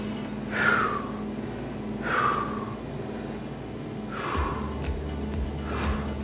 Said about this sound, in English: We're catching our breath.